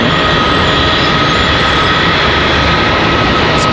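An Airbus A319 jet engine starting up on the ramp at Charlotte Douglas airport, a loud, steady close roar with a constant whine and no talk.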